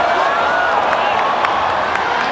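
Loud, continuous crowd roar at a ONE Championship fight, a dense wash of voices swelling with oohs and ahs, with faint sharp claps or shouts poking through.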